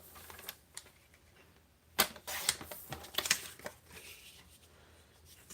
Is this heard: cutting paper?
yes